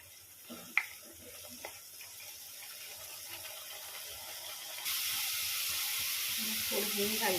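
Masala frying in hot oil, a soft steady sizzle that grows louder and brighter partway through and holds at that level, with a faint click near the start.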